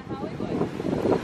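Wind buffets the microphone in an outdoor theme park, a brief gusty rumble over faint voices.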